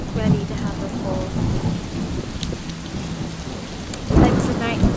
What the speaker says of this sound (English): This night, Belle the creamy mare gave birth in the dark and stormy night.